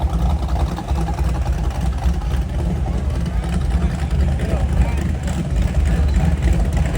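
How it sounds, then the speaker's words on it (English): A Ford Bronco drives past at a classic car cruise event on the Gulf Coast, its deep engine rumble rolling steadily amid other traffic noise while someone talks nearby. "Listen to that Bronco go by there."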